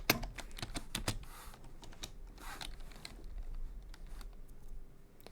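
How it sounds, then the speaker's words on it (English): Typing on a computer keyboard, a quiet close run of irregular key clicks and taps with short pauses between bursts. "all you got to do is just type in Pro or not. Let me spell this correctly."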